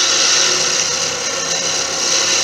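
Lathe gouge taking a finishing cut on a spinning antler blank for a slimline click pen, a steady bright hissing scrape that runs unbroken and close for the whole stretch.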